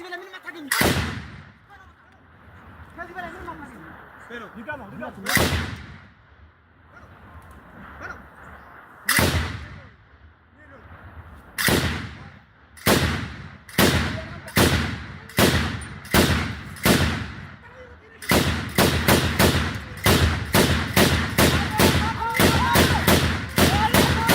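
Gunfire from a Bren-type gun aimed at a target: sparse, loud, close single shots at first, then quickening into rapid bursts of sharp cracks.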